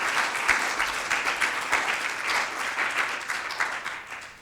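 Steady, dense applause from a museum lecture audience welcoming speaker Dona Brown, a continuous wash of many hands clapping at even loudness throughout.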